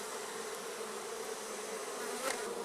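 Honeybees hum in a dense, steady swarm around an opened hive during a honey harvest, a continuous close buzzing with no voices.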